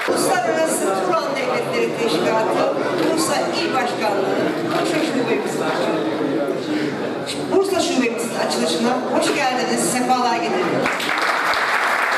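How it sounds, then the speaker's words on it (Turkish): Loud applause from an audience at a Turkish political gathering, a dense steady wash of clapping that carries through the whole stretch, with voices mixed in. "Yüksek alkışlar oluyor."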